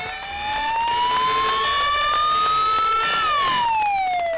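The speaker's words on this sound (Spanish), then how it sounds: "Con este sonido de las sirenas de los vehículos de emergencia" A loud, continuous emergency siren wails steadily, its pitch slowly rising then falling away, with no voices over it.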